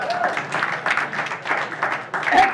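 An audience at a mermaid variety show in a small New York venue applauds, a brief patter of clapping that swells in uneven bursts with some crowd voices mixed in, moderately loud and close.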